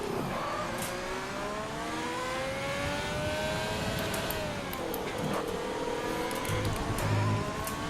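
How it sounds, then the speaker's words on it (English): An F1 2020 race car engine screams in the video game, pitch climbing steadily then dropping sharply as it upshifts quickly from third to fifth gear before climbing again, loud and continuous with no talking. "So I'm on 3rd gear, and then very quickly I upshift to 5th gear"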